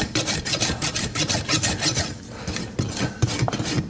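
A farrier rasps down a horse's hoof wall to the bevel in a shoeing demonstration, giving close, loud, rapid back-and-forth scraping strokes with a brief pause midway.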